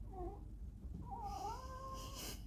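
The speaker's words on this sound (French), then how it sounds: "J'ai mon chat qui vient se présenter." A cat meows twice close by: a short call followed by a longer, drawn-out meow with a rising and falling pitch. No one speaks.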